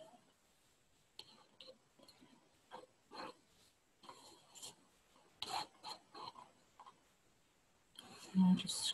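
PVA glue is scraped with a tool in short, scattered strokes, soft and close, with quiet talking in between.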